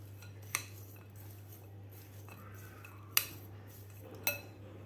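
A spoon stirs jaggery into chopped raw mango in a pot, with three sharp metallic clinks against the vessel over a quiet steady hum.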